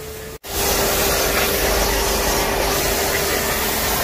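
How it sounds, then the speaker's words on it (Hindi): High-pressure jet spray blasts a car inside an automatic car wash, a loud, steady, broadband hiss that starts abruptly after a brief gap and keeps going without a break. "बहुत तेज प्रेशर है, एकदम चकाचक मिट्टी ये भी निकाल रहे हैं।"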